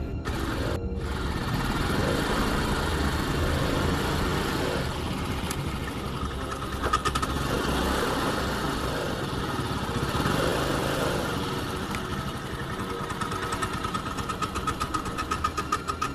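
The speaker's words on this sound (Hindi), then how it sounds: "वहीं थोड़ी देर बाद वहाँ पे एक स्कूटर के आने की आवाज़ आती है।" A cartoon scooter's engine drones steadily and close, with a rough mid-pitched buzz that rises and falls slightly as it arrives.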